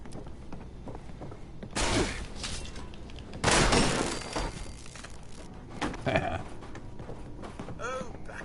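Gunfire in Fallout 76: several sharp bursts and single shots ring out at mid distance over a continuous bed of in-game ambience, with a few softer clattering and footstep-like sounds in between.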